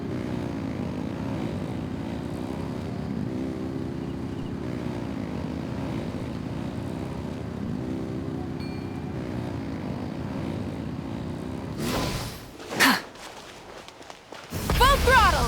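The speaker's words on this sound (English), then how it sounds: "Rev the engines!" Engines in the Genshin Impact video game rev and roar in a steady, loud drone resembling a propeller aircraft, which breaks off near the end into sharp bursts and a renewed roar, with voices partly over it.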